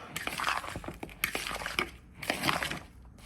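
A spoon stirs a pot of seafood stew peas up close, with steady scraping and clinking against the pot and a few sharper knocks throughout.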